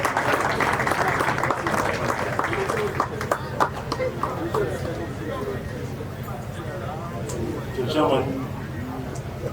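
Applause for a special guest at a school speech and prize-giving day: a steady round of clapping from an audience in a hall, continuous and moderately loud, with crowd murmur and a voice faintly underneath.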